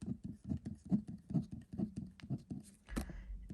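A pen writes on paper in a steady rhythm of short scratchy strokes, about two per second, close and quiet, ending with a slightly longer scrape.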